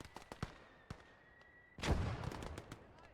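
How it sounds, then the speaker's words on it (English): Scattered distant thuds and pops of mortar fire in Gates of Hell: Ostfront, several sharp isolated reports followed by a louder rumbling blast near the middle, with smaller hits trailing after. "Mortar's doing some good work"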